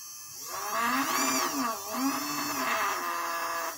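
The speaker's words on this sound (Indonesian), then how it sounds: "ini diputar ya si motor semakin kencang." A small electric motor in a toy-based miniature locomotive whines loudly and steadily, its pitch swelling up and dipping as a potentiometer controller speeds it up, with no voices present.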